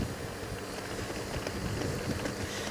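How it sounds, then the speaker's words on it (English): Steady wind noise blowing across the microphone while riding a Honda Goldwing trike, a continuous broadband rush with mild gusty fluctuations and no voices. "It's kind of windy today."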